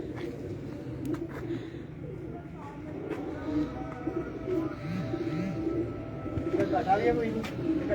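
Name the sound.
pigeons cooing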